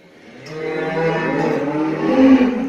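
Velvet, a heavily pregnant dairy cow due to calve, gives one long, loud, close moo that swells toward the end, heard alone on a farm.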